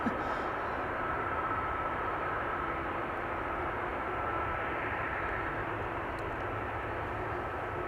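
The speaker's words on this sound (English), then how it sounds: "A321neo, in the meantime, having landed here." An Airbus A321neo landing at Amsterdam Schiphol Airport, its broad steady engine roar rolling on at constant loudness, fairly near and continuous throughout with no voices over it.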